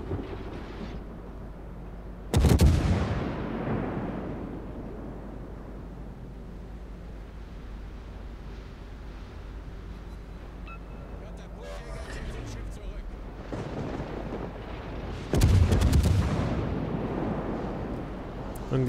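Naval guns firing at the battleship Missouri in World of Warships: two heavy, booming salvos about thirteen seconds apart, each decaying slowly over a steady low ambient rumble.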